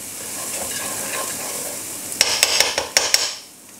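Crushed garlic sizzling in a pot for a lamb ragout casserole, a soft steady fry that gives way near the end to a quick run of loud spoon clinks and scrapes against the pot.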